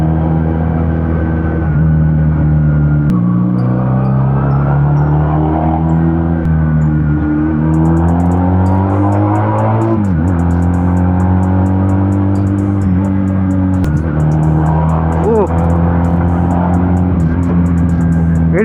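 A Benelli Patagonian Eagle 250 motorcycle engine while riding: a loud, close drone that climbs in pitch, drops at each gear shift and climbs again, running without a break and with no talking.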